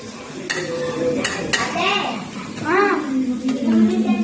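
Food frying in a pan at home, with a steady sizzle under occasional stirring and utensil scrapes against the pan, close and fairly loud.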